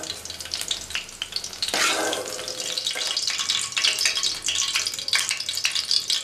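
Spices hit hot oil left over from frying brinjal, giving a loud sudden burst of sizzling spatter that settles into a steady crackle with occasional stirring clinks; no speech.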